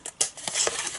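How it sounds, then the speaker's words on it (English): Scissors snipping small squares from the corners of paper for a Valentine's Day matchbox gift box, a few short crisp cuts close by, no talking. "I'm going to cut these away, these little squares."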